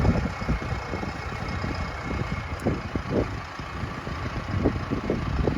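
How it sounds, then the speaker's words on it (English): A heavy farm tractor engine runs steadily while packing down a flat snowy trail for cattle, a continuous mid-pitched drone with a few louder surges, close by and alone. "The tractor's heavy enough to make a nice flat path that the cows can walk on"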